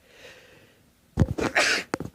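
A single sharp human sneeze bursts out close to the microphone after a moment of quiet, with a short breathy tail, while guitar fret work is underway.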